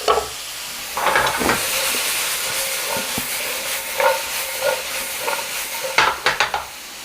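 Greens wilting in a covered pot with a splash of water or bean juice while making Tuscan bean soup, a steady steamy sizzle broken by intermittent clinks and stirring knocks, loudest near the end.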